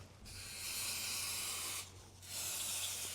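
A steady aerosol spray of brake cleaner hisses close by in two long bursts, separated by a brief pause, over a low background hum, during a Mercedes 5G-Tronic transmission oil change.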